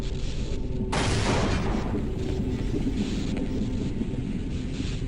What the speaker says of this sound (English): the only way I can hit this window is with a grenade